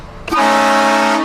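A loud train horn is blasted at close range as a prank, one sustained blaring blast that starts abruptly and holds steady for about a second, with nothing else audible.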